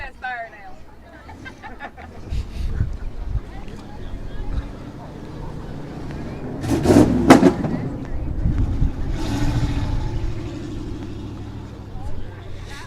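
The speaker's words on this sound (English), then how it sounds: "Nice loud exhaust. And backfire." A car with a loud exhaust drives past a softball game, its rumble rising to a sharp backfire pop midway before fading, under steady crowd chatter and nearby talk.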